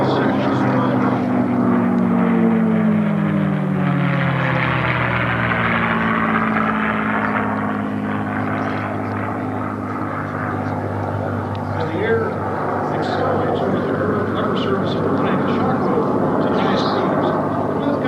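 T-51 propeller aircraft flying over Edwards AFB at an air show, a loud engine drone that sweeps down in pitch as the plane passes and then fades to a distant hum, with announcer-style talk over it.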